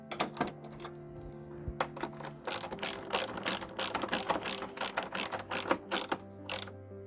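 Ratchet tightening screws on an Isuzu truck turn signal light, rapid clicking pawl strokes in bursts, close and clear with no talking.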